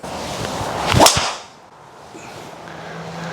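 A single sharp, loud impact crack as a Titleist GT2 driver strikes a golf ball, followed by a brief whoosh fading into quiet outdoor ambience.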